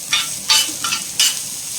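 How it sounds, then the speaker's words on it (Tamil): Onions are sautéed in a pan with repeated stirring, each stroke making a short scraping rustle over a soft sizzle, four distinct bursts in quick succession, close and with no talking. "நல்லா வதக்கலாங்க"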